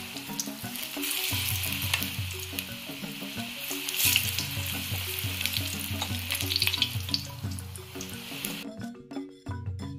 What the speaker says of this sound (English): But me just fry them here natural today, alright?